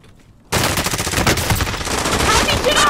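A Nerf MP5 submachine blaster fires darts in a rapid, continuous burst during an outdoor game, a loud dense rattle that starts abruptly after a brief quiet moment and keeps going.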